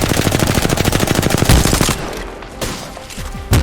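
Rapid automatic gunfire in Apex Legends, a loud dense burst of shots for about two seconds, followed by a few scattered single shots and impacts.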